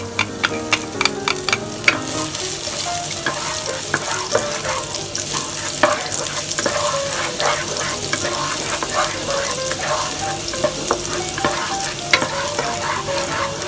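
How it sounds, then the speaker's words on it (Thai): Minced garlic stir-frying for crab fried rice, a loud, dense sizzle heard up close with a steady patter of spatula ticks and scrapes running through it and no speech. "เดี๋ยวเรามาเริ่มผัดกันเลยครับ ผมใส่กระเทียมสับครับ"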